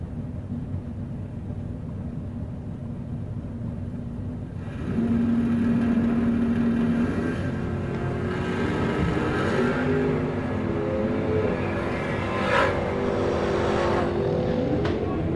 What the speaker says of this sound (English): Station wagon. Heavy. Bone stock, big block, turbo 400,